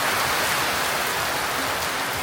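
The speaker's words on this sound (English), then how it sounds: "I'll wait for this rain to die down, and then we'll have a little chat." Heavy rain pounding down outside a mobile mechanic's workspace, a dense, loud, unbroken hiss of drops with no voices over it.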